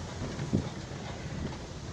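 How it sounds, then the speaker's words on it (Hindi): Cool wind blowing steadily outdoors in the green village of Paharpur near Dera Ismail Khan, Pakistan, a constant soft rush of air noise with one brief gust-like bump and no talk. "ठंडी हवा चल रही है।"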